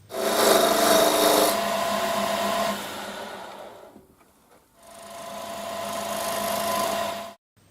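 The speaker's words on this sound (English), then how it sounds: "use the parting tool, thin parting tool, to put a mark for the end of the tenon" A thin parting tool cuts into wood spinning on a lathe with a rasping scrape, pausing briefly midway before a second steady cut, then stopping.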